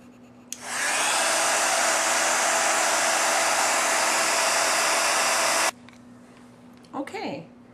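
A heat gun melts embossing powder on a stamped paper craft tag, its loud steady blowing hiss running for about five seconds before cutting off abruptly, followed by a brief voice.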